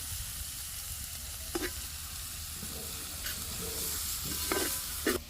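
Ghaf tree beans (khoka) stirred in a frying pan give a steady low sizzle and frying hiss, with a few sharp scrapes and clinks of the spoon against the pan standing out near the end.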